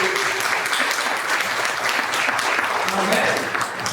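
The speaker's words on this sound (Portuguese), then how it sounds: "Vamos aplaudir a Jesus." A church congregation breaks into sustained, dense applause during a sermon, loud and steady, with voices and cheering mixed in beneath the clapping.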